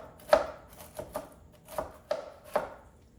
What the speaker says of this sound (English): You want them to be cut to small pieces, but not ground